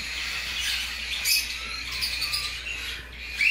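A newborn canary chick, about four days old, gives thin, high chirps close by, faint and repeated over a quiet background hum.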